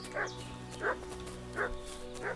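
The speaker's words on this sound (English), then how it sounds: "What's that dog making such a fuss about?" Four short dog barks ring out at even intervals in the video game Kingdom Come: Deliverance II, moderately near over a steady low ambient hum, with no talking.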